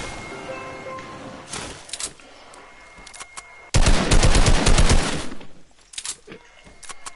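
Rapid automatic gunfire in Fortnite laser tag mode: scattered shots early on, then a loud sustained burst of fast repeated bursts, tapering to a few isolated shots near the end.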